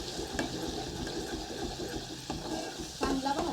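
Masala spices fry in oil for misal, a soft continuous sizzle with stirring scrapes and a few utensil knocks, fairly quiet, with no one speaking.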